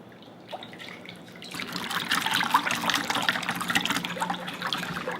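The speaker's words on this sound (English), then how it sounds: "Now give it a good whisk." Eggs being whisked into a sweet and savory cornbread batter, a steady wet sloshing and churning that starts softly and grows fuller and busier after the first second and a half, close up with no talking.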